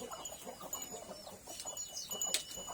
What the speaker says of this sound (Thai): นี่ไก่บ้าน